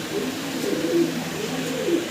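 Pigeons cooing in repeated low, throaty phrases, fairly close and steady, with a gentle rhythmic rise and fall.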